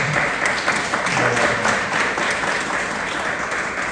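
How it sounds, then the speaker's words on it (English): Steady applause from a crowd, a dense continuous wash of clapping lasting throughout with no clear gaps. "we owe them a round of applause"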